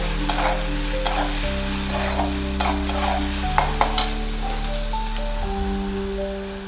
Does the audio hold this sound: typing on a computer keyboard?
no